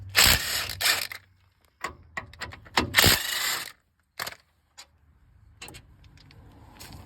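Ratchet working loose the two rear 21mm caliper bracket bolts on a 2012 Ford F-150 during a wheel bearing job: bursts of rapid metallic clicking, close and loud, separated by pauses and softer handling clatter.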